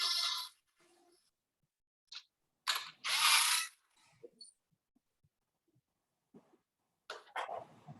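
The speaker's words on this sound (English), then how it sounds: "I've got my torque setting very low on this nut drive." A low-torque nut driver tightening piston bolts while reinstalling pistons into an engine block, with short mechanical ratcheting bursts separated by pauses and a few faint clicks, close and fairly quiet.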